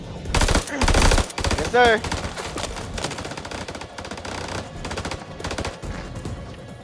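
Rapid bursts of automatic gunfire in the video game House of Ashes, loud clustered shots at first, then continuing volleys under a short spoken reply.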